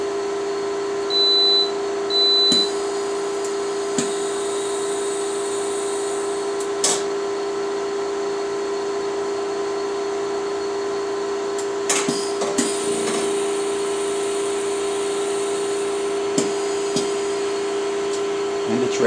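A Karl Suss MJB4 mask aligner exposing a wafer gives a steady, constant electrical hum, with two short high beeps near the start and a few faint clicks later on; no one speaks.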